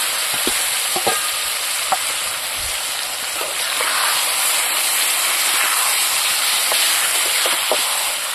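Minced mutton sizzles steadily in a pot over an outdoor jungle fire, with a dense continuous frying hiss and a few scattered stirring clicks throughout, close and fairly loud with no talk.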